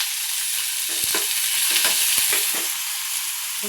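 Onion, tomato and garlic for a fish curry masala sauté in a pan over a medium flame, giving a constant bright sizzle broken by several soft scraping stirs.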